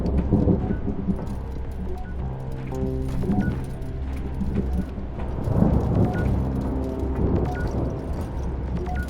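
Steady rain hiss with low rumbling thunder in the video game Return to Grace, continuous throughout and layered under tonal background music.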